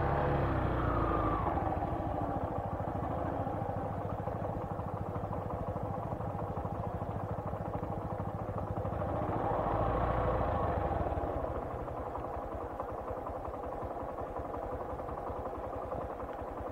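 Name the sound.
motorcycle riding up a narrow hill road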